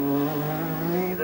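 Lancia Delta S4 rally car with a turbocharged engine and four-wheel drive, competing in the 1985 RAC Rally, roaring loudly and steadily at high revs in a brief close pass with a strong harmonic engine tone.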